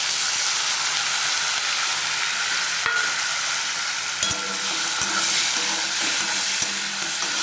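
Tomato and a chili go into garlic frying with turmeric in a pan, and a spoon stirs them. A continuous close sizzle runs throughout, broken by several sharp scrapes and clicks of the spoon against the pan. No voices.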